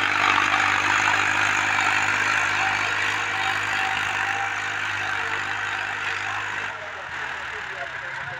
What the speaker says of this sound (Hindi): सेम ऐसे चल रहा है जैसे रोड पे भाग रहा हो ट्रैक्टर कल्टीवेटर के साथ, फुल लीवर ड्रॉप